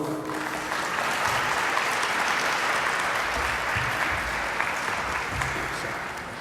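A large audience bursts into sustained, dense applause welcoming a speaker at an evening talk on Canada-India business and global politics, steady and loud from start to finish with no voices rising above the clapping.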